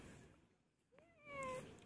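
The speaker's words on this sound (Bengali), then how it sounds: "চিঙ্গু, হ্যাঁ ম্যাও কই যে?" A pet cat on a bed gives a single short meow, fairly faint and close, in an otherwise quiet indoor room.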